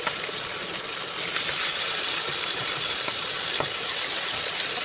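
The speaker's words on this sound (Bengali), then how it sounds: "এখন পাঙ্গাস মাছগুলোকে ভেজে নিচ্ছি" Pangas fish frying in a pan, a steady broadband sizzle with faint crackles running continuously at close range, no voices over it.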